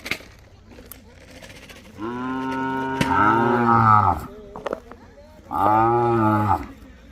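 Two long, loud moos from Khillar cattle close by, the first drawn out for about two seconds, the second shorter, with quiet background between.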